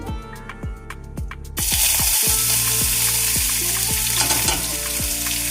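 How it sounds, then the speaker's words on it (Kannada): Oil in a frying pan, used for cooking a paneer chapati roll, first makes a run of resonant metallic taps and clinks, then breaks into a loud, dense sizzle that continues close and steady. "ನಾನೀಗ ಒಂದು ಪ್ಯಾನ್ಗೆ ಸ್ವಲ್ಪ ಆಯಿಲ್ ಹಾಕೋತಾ ಇದ್ದೀನಿ"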